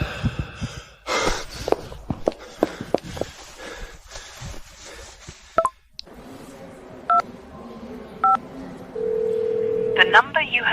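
Telephone keypad dialing tones, a run of short beeps near the end after breathy sighs and gasps, followed by a steady tone, loud and close.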